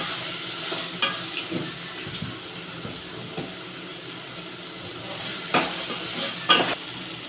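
Drumstick (moringa) leaves sizzle softly in a pan with turmeric and salt while a utensil stirs and scrapes now and then, with a few louder clinks near the end.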